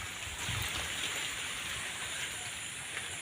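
Steady rain falls on a papaya field with a dense, even hiss and pattering, continuous throughout, fairly soft and without any voices.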